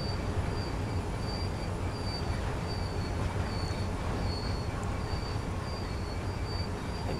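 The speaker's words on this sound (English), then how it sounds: "I will start applying the automatic brakes again. Get this train slowed down." Class 66 diesel freight train in Train Sim World slowing to a stop under automatic brakes, a steady loud rumble of rolling wagons with faint recurring high brake squeal throughout, no talking.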